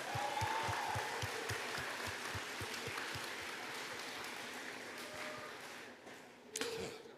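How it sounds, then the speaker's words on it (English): An audience at an anime convention's opening ceremony claps steadily through a big hall, a broad wash of applause with a regular thumping beat beneath it that thins out toward the end. "So one more round of applause for Jesse Smith, guys."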